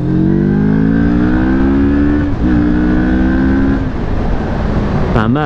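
Moto Morini Seiemmezzo motorcycle pulling in second gear around 4000 rpm, a loud, close engine drone whose pitch climbs steadily, dips briefly at a shift-like break, then rises again over heavy wind rush.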